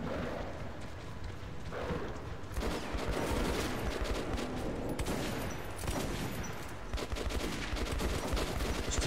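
Metro 2033 firefight: rapid, sustained bursts of automatic gunfire crackle almost without pause over several seconds, dense and fairly distant-sounding, with no speech heard.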